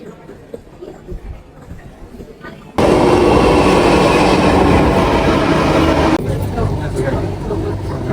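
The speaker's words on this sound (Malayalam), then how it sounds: "ഇപ്പം നമ്മൾ ആദ്യമായിട്ട് ഇവിടുത്തെ മെട്രോ ഒന്ന് എക്സ്പീരിയൻസ് ചെയ്യുകയാണ്" A Bangalore metro train on the Purple Line starts with quieter station ambience and scattered sounds, then a loud, sustained rolling rumble and whine of the carriage in motion takes over, easing slightly near the end.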